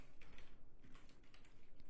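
Rapid typing on a computer keyboard, with a quick irregular run of close, crisp key clicks and no voices.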